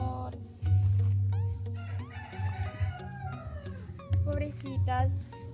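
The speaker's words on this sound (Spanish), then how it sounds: "pollitos se están comiendo" Hens cluck and chirp repeatedly at close range, with small chicks peeping in between, forming a busy barnyard chatter.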